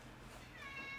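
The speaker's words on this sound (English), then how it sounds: "My cat's meowing even, he wants me to leave" A house cat meows faintly in the background during a horror-game playthrough, a soft rising cry near the end of a quiet moment with low room hum.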